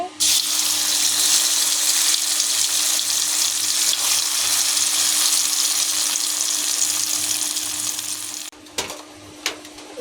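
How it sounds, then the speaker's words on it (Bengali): Blended carrots for carrot halwa fry in a pan with a steady, loud, broadband sizzle that holds for about eight and a half seconds, then drops away to quieter clinks and a couple of short knocks. "এখন আমি ব্লেন্ড করা গাজরগুলো দিয়ে দিব"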